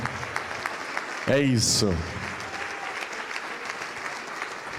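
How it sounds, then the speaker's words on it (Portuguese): Church congregation breaking into applause in a burst of clapping lasting under a second, then fading, with a person speaking over and after it against a steady room background. "vem aqui para frente e vamos aplaudir ao Senhor"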